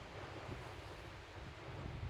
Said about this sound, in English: Sitting out here at the coast today, out at Sea Point